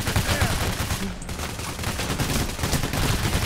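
Rapid gunfire in the bank-robbery shooter Payday: The Heist, a dense continuous burst of loud shots with a brief lull near the middle, while voices talk underneath.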